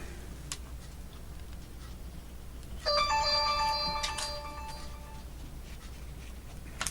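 A short chiming electronic tone sounds once, like a phone notification, against quiet background hiss with a few faint ticks.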